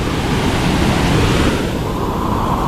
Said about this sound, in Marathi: धबधबा पडत असतो